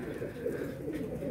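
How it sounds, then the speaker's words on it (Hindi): Newly released pigeons coo in a continuous low, throaty burble, several birds close by and overlapping in a steady murmur with no clear breaks. "ये कबूतर देख लें नए छोड़े हैं कबूतर हमारे"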